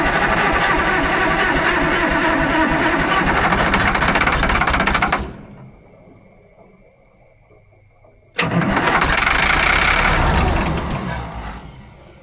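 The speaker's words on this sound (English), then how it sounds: "It's only running on ether." An Allis Chalmers 645B loader's old diesel engine runs roughly on ether, roaring loudly, dropping out to a low sputter for a few seconds, then catching and roaring again before fading.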